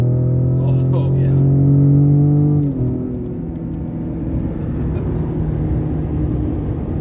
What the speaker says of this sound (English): You can really hear that turbo whistling.